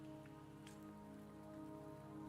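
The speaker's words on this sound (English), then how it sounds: "Don't worry, the rain won't last much longer." Rain falls steadily in a video game, a soft continuous patter over a droning musical bed, faint and even throughout.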